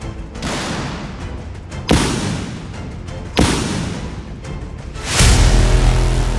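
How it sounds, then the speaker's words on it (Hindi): Loud booms of a tank shell barrage hit one after another over a constant roar, with a sharp blast every second or so, ending in a deep rumble. "टैंकों से अंधाधुंध बारूदी गोले की बौछार हो रही है।"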